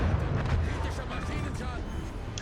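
Guns of the Anshan destroyer fire in World of Warships, producing a dense, continuous roar of booming salvos with heavy low rumble, loud and close throughout.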